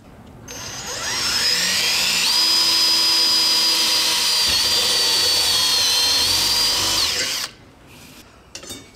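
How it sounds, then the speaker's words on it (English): A power drill bores quarter-inch holes in a Jeep JL Wrangler license plate mount, one long loud whine rising as it spins up, grinding steadily for several seconds, then stopping abruptly with faint clatter after. "so we're going to drill some 1/4-inch holes right here."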